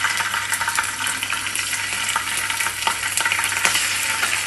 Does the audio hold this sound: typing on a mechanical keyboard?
no